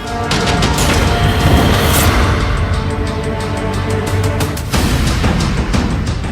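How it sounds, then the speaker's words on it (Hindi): A loud, sustained roaring rumble fills the whole stretch, like the long aftermath of a massive blast from a car packed with 350 kg of IED hitting a CRPF bus in Pulwama, with a brief dip and renewed surge near the end. "टक्कर के साथ बहुत बड़ा धमाका हुआ।"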